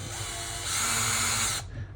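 A power drill runs steadily while pre-drilling a hole, a sustained whine that rises in pitch midway and then cuts off sharply near the end, close up with no talk.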